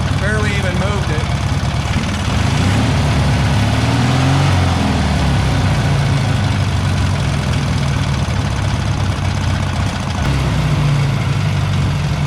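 A Taurus 650 engine idles steadily and low after a throttle linkage adjustment, a continuous near rumble with slight variations in pitch, while someone talks over it.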